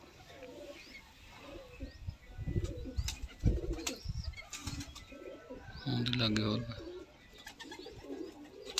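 Soft, low pigeon coos rise and fall in short phrases, mixed with a few chirps, while someone talks over them nearby.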